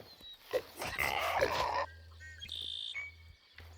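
A pig in the video game Hytale lets out a few snorting grunts and squeals close up, with a short higher-pitched squeak near the end over a low steady hum.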